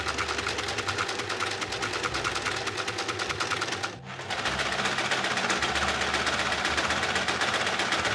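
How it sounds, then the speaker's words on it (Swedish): A sewing machine stitches a straight seam with a steady, fast mechanical whirr up close, broken by a brief pause midway before running on again. "Och så ska jag bara sy en raksöm rakt ner så här."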